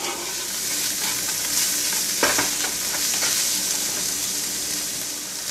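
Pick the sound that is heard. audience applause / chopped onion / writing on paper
chopped onion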